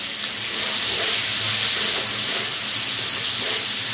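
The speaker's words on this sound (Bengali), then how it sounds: "এখন আমি এর মধ্যে দিয়ে দিচ্ছি 2টো পেঁয়াজ কুচি আর 5-7টা কাঁচা লঙ্কা" Chopped onions and green chillies sizzle in hot frying oil, a loud steady hiss that rises slightly and holds throughout.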